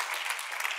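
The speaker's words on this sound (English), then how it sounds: "So, yes, you can clap for that." Audience applause rises from a live talk-show crowd, a soft, even wash of clapping with no voices over it.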